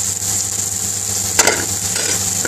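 Chopped onion with a pinch of salt and mixed curry powder fries in a hot pan, giving a loud continuous sizzle with a sharp stirring clatter partway through.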